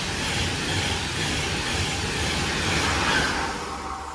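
A Class 390 Pendolino express train runs through Poynton station, a steady loud rush of wheels and bodywork across the whole stretch that swells slightly near the end, with no voices.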